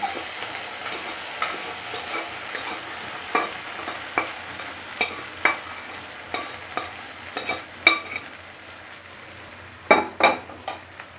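Green jackfruit fries in spice masala with a low continuous sizzle, broken by frequent sharp clacks and scrapes of a spoon stirring against the pan, close and unhurried.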